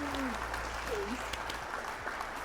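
Recorded applause effect played back during a guest lecture, a steady faint wash of clapping with a few voices over it.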